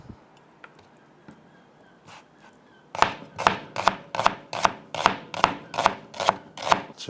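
A whole onion is chopped on a board with a knife, about nine quick, evenly spaced crisp chops close by, after a few softer taps and some quiet handling.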